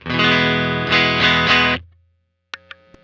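A clean single-coil electric guitar plays sustained chords with a bright, undistorted tone, several strums ringing out, then silence and a few short plucked notes.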